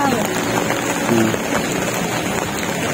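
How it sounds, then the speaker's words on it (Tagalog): A sudden, heavy rain downpour hisses in a dense, loud, continuous roar of drops on surfaces, with some talking mixed underneath. "Tapos ngayon, bigla na bumuhos ng ulan."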